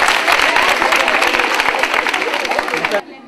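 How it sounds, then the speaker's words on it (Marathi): A large college crowd in Satara breaks into loud, sustained applause for a correct quiz answer, the clapping dense and close before stopping abruptly near the end. "पहिल्या प्रश्नाचं उत्तर बरोबर आहे. जोरदार टाळ्या"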